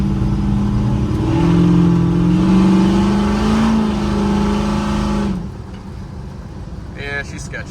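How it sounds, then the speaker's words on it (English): A squarebody truck fitted with Corvette exhaust, heard from inside the cab as the engine pulls through rising and falling revs, then drops to a quieter drone, with a brief voice near the end. "at least wanted to hear how the exhaust sounds in the cab"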